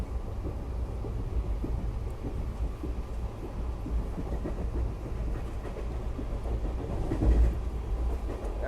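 The Chennai–Palakkad Express, an ICF-coach train, running during monsoon season: a steady, loud, broadband rumble and rattle heard from inside the moving coach, continuous with faint rhythmic clatter and no talking.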